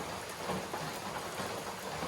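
Steady rain falling along the Appalachian Trail near Dragon's Tooth, a dense, even hiss of drops on leaves and ground with no pauses and no talking.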